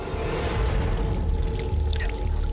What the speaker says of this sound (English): Gasoline was just pouring out.